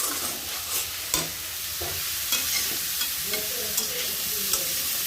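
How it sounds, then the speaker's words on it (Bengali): Spices with ginger and garlic frying in a pan for liver curry, a steady sizzle with a spoon scraping and stirring in irregular strokes, close and moderately loud. "এখানে আমি কলিজার জন্য হচ্ছে মশলা কষাচ্ছি।"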